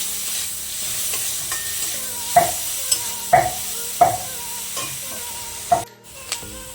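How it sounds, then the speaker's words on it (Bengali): Chopped onion and green chili fry in hot oil with a steady sizzle, while a spoon stirs and scrapes the pan in sharp, irregular clinks. "পেঁয়াজ কুচি দিয়ে সাথে কাঁচা লঙ্কা কুচি হালকা করে তেলে আমি ভাজতে হবে"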